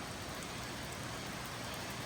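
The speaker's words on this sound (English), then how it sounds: "I wish I could just go sit on the porch and watch it rain." Steady rain falls outside a workshop, a soft, even broadband hiss of drops on surfaces that holds constant throughout, fairly quiet and with no voices over it.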